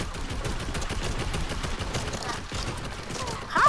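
Rapid enemy gunfire in a first-person shooter video game, dense bursts of shots rattling continuously and fairly loud, with a brief louder burst near the end.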